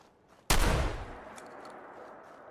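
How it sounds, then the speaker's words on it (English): A single shotgun blast in Fallout 4 cracks out sharply and loudly, its roar decaying slowly into a lingering echo over a quiet ambient background. "Then I fire my shotgun."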